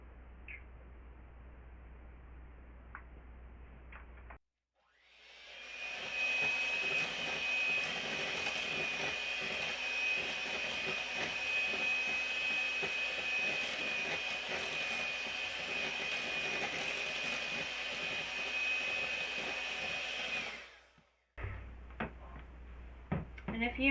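An electric mixer beats eggs into blueberry muffin batter, switching on abruptly and holding a loud, steady whirring whine for about sixteen seconds before cutting off, with quieter kitchen clatter before and after.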